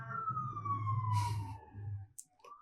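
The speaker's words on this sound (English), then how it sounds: "sirens." An emergency vehicle siren passes outside: one wailing tone glides steadily downward over a low traffic rumble, then drops away and ends with a short chirp.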